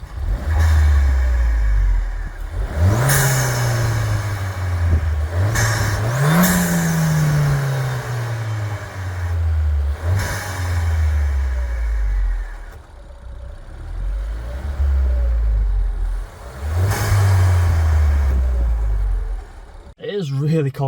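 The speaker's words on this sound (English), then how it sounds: "let's start the car up and let's rev it a bit" Ford Fiesta ST engine revved repeatedly outdoors in cold, windy weather, several loud rising revs each dropping back to idle, with blow-off valve release after the revs, close and prominent with some wind noise.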